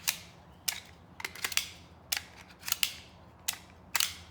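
Crisp plastic-and-metal clicks from working the magazine release on a Glock pistol, about eight separate snaps spaced irregularly over a few seconds, quiet and close against a low hum.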